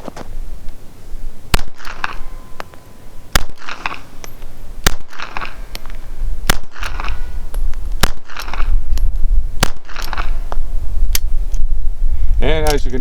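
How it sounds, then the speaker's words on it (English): A Ruger LCP .380 pistol fires about eight sharp, loud shots at a target, spaced a second or two apart, with someone talking between them over steady background noise. "we're going to be shooting at the little target right over here"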